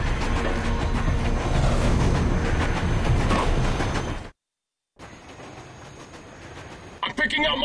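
A moving train in the Rogue Trooper video game rumbles and rattles loudly with steady rolling noise and voices over it, then cuts to brief silence before a quieter rumble resumes, ending with a few sharp clanks.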